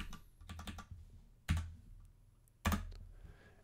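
Keystrokes on a computer keyboard while entering a command in a terminal: a quick run of light clicks, then two louder, heavier key strikes spaced apart, close and alone with no talk.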